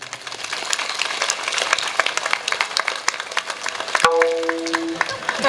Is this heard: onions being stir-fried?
no